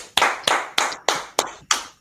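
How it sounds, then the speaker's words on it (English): Six sharp, evenly spaced hand claps ring out close by, each a crisp slap with a brief decay, in a steady rhythm. "Clap it up."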